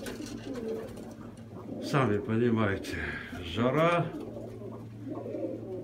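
Pigeons in a hot loft give two loud, close rolling coos in the middle of the stretch, with softer cooing before and after, while someone talks over them.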